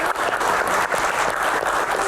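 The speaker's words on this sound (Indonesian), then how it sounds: "Tepuk tangan untuk rekan-rekan semuanya ada di sini." An audience claps continuously and evenly at a panel event, a brief burst of dense applause from a crowd close by.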